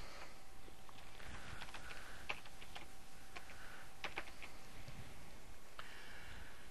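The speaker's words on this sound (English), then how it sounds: "I have to type the word football in." Computer keyboard typing at a desk while entering text in CorelDRAW design software, scattered quiet keystrokes in irregular bursts over a steady background hiss, close but faint, no talking.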